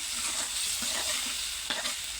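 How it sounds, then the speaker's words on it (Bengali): Tomatoes with turmeric and chili stir-fried in a hot pan give a steady, close sizzle broken by a few scraping stirs, with no voices. "আর এইখানে আমি এই যে টমেটোগুলো কষিয়ে নিচ্ছি"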